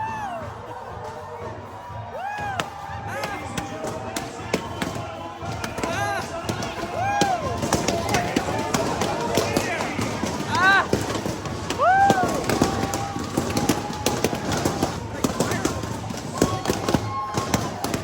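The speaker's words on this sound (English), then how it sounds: "Now the popping and the explosions of the balloons was kind of terrifying." Balloons bursting during a mass balloon drop aboard the cruise ship Oasis of the Seas, with scattered sharp pops rising into a dense crackle over a lively crowd of cheering, shouting voices.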